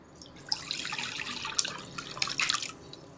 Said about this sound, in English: Now we will boil this mix.